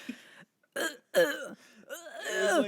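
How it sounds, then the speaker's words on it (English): A few throaty coughs and throat-clearing sounds, close and separated by brief pauses, rough and voiced. "I did a cough."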